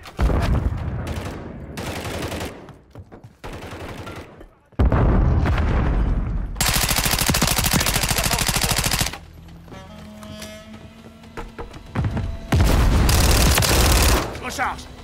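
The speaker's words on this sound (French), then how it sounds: "Je lance une grenade." Combat in Call of Duty MW3 on the Estate map, with sustained loud automatic gunfire and heavy bursts, a grenade thrown amid the shooting, and a voice talking between the volleys.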